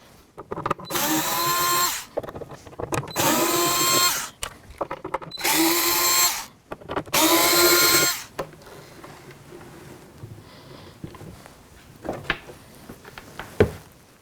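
An electric screwdriver removing Torx screws whirs in four short bursts of about two seconds each, close by, followed by quieter handling clicks and taps, while installing a luggage rack on a Can-Am Spyder.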